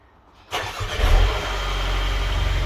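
A Mercedes A220 started by push button after a battery replacement: near silence, then a sharp crank at half a second, a surge of revs that settles into a steady, even idle, close and clear.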